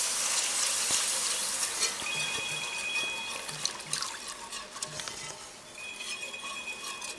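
Water pours into a pan of browned roux, a steady splashing rush with light sizzle and a few clinks of utensils, fairly close.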